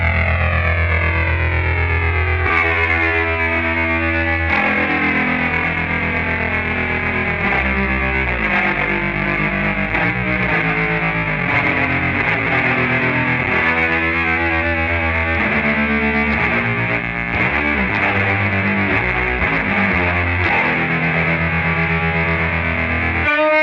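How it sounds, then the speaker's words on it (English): A steady sine-wave tone from a Keeley Electronics SYNTH-1 effects pedal, smooth and sustained with shifting pitches and a slightly distorted, chorused edge, playing continuously with no talk. "sine wave"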